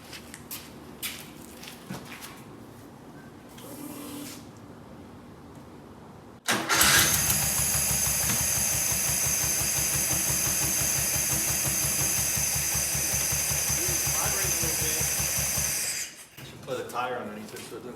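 A VW Type 4 2.0 engine from a Porsche 914, run outside the car, cranks and catches abruptly, then runs loud and close with a steady rough idle for about ten seconds before cutting off; people talk before and after.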